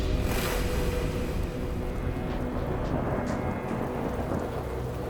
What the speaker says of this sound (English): Apparently a storm is coming in.